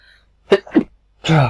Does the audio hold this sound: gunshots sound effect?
no